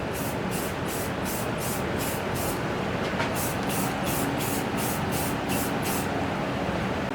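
Repeated bursts of aerosol spray paint coating lawn mower wheels from a SCAG V-Ride stand-on mower, hissing in a steady rhythm of short pulses close by, with no talking.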